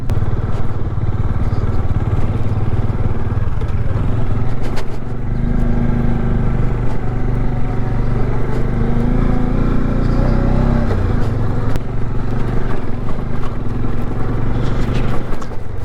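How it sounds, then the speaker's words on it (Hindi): A Bajaj Dominar motorcycle on new Apollo tyres rides steep, sandy off-road mountain trail near Chanshal, its engine droning loudly and steadily for the whole stretch with little variation in pitch. "ऐसे एक्सट्रीम ऑफ रोड में भी बाइक काफ़ी अच्छा परफॉर्म कर रही है"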